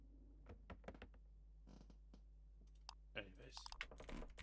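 Keyboard typing in The Visitor video game comes as scattered quick clicks and short bursts of keystrokes at low level, with a few louder clacks and thumps near the end.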